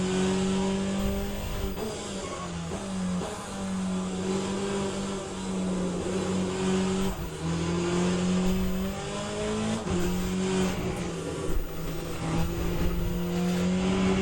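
A race car engine in the Le Mans Ultimate racing sim howls continuously, its pitch climbing through gears and dropping under braking, with brief tire squeal, loud and alone without talk.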